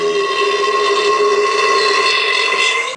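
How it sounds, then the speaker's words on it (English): A single long, loud, tonal burp after eating Costco all-beef hot dogs, close to the mic and sustained for about three seconds. "But these give the worst burps."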